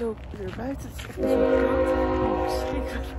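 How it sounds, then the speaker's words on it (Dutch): A passing train sounds a long, steady horn blast that swells in over a background rumble, loud and sustained, following a brief stretch of someone talking outdoors. "Dat was de trein."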